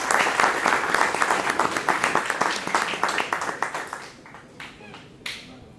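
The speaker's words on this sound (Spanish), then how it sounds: "Ustedes un aplauso, por favor" An audience at a forum honouring José Carlos Mariátegui breaks into lively applause that thins to a few scattered claps over several seconds.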